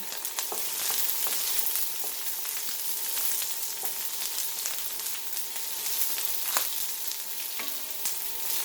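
Onions popping and crackling as they fry in a hot pan at high heat, a continuous dense sizzle with scattered sharp pops, fairly close and with no voices.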